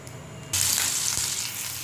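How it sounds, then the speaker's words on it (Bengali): Spice paste for an egg masala curry hits hot white oil in a pan and bursts into a loud, close hiss, then settles into a steady bright sizzle with no voices over it. "মশলাটা আমাদের ফ্রাই হচ্ছে"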